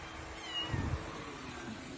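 A kitten gives one short, soft meow at middle distance over steady background noise. No one speaks.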